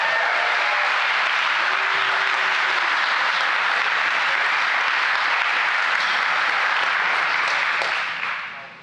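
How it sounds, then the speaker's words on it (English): A crowd at an engine builder competition gives sustained, loud applause, thick continuous clapping that holds evenly for several seconds before fading at the end. "How about a round of applause?"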